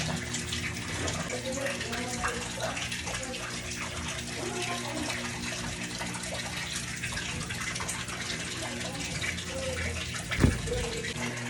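Water running steadily from a tap while laundry is washed by hand, a continuous close gushing splash with a brief knock near the end and faint voices in the background.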